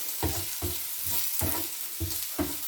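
Onions sizzle steadily on a hot griddle as they start to brown for pork quesadillas, with a dense, continuous frying hiss broken by about six soft, regular scrapes and stirs close by.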